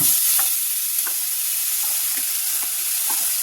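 Radish hitting hot oil with crackling mustard seeds in a kadhai, a steady bright sizzle broken by a few soft stirring knocks, close and continuous with no voices.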